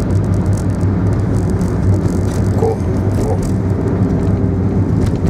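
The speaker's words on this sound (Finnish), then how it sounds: "Täällähän on jumalauta muuta liikennettä." A car passes on the road, its engine and tyre rumble steady and fairly close against ongoing road noise.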